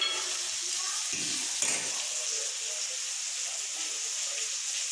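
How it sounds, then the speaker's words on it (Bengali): Vegetables frying in a pan at home give a steady, close hiss and crackle that carries on throughout, with a brief clatter of stirring near the start. "সব কিছু দিয়ে আমি এখানে ভাজা ভাজা করে নিচ্ছি"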